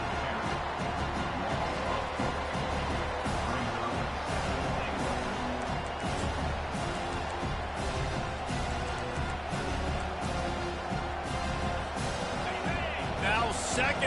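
A dense, steady roar from a packed stadium crowd at a college football game, with Tennessee driving near the goal line, holding loud throughout while a broadcaster talks over it.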